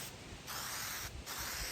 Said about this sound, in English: I got 3 more cans of spray paint